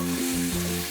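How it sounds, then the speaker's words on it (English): Onions and garlic sautéing in olive oil, a brief, close, steady hiss of frying with a low tonal hum underneath and no talking. "I'm going to saute this for a few minutes until the onions get translucent"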